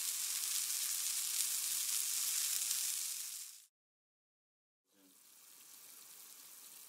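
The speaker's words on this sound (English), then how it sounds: "Then add the stock, bring to a boil and reduce by half" Chicken stock for a saltimbocca pan sauce bubbling and reducing in a pan: a steady, loud hissing sizzle that cuts out completely for about a second, then resumes more softly.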